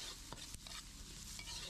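Onion, garlic and ginger sautéing together in oil, a steady close sizzle with a few light stirring scrapes and taps, no talking.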